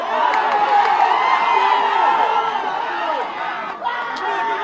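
A large crowd at a Janasena party meeting with Gangavaram port residents keeps up a loud, continuous clamour of shouting and chatter, a dense wall of voices that dips briefly near the end before swelling again.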